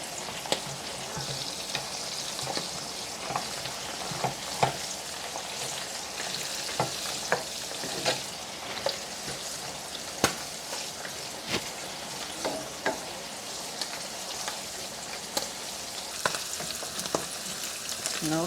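Jamaican escovitch-style saltfish frying in hot oil makes a constant sizzle dotted with sharp crackles and pops, close and fairly soft, with no talking.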